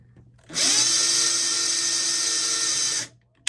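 A power drill whirs loudly and steadily for about two and a half seconds, spinning up and then stopping abruptly.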